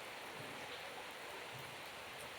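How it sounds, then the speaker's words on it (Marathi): Rain pours steadily at a village temple in Loni, a faint continuous hiss of falling water with no talking and no breaks. "अजून पाऊस चालू आहे."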